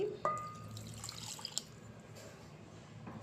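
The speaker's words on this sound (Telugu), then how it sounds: "ఇందులో సరిపడినంత వాటర్ కూడా వేసుకోవాలి." Quiet trickling and splashing of water poured into a pot of dal with drumstick leaves, with a few soft drips and clinks against a low background hum.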